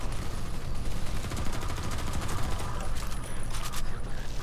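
Sustained gunfire in Half-Life 2 keeps up a continuous rattling fusillade of rapid shots, fairly loud and dense throughout the few seconds.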